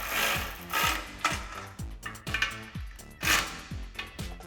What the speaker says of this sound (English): we'll take a 15mm socket, going back and forth, tightening these down to put even pressure on our flange